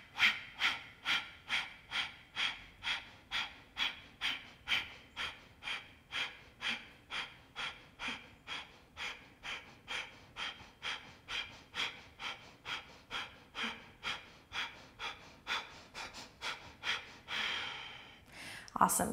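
Kapalabhati breathing during a yoga class, a long run of rapid, forceful nasal exhales pulsing evenly about twice a second, close and clear, ending in a longer breath.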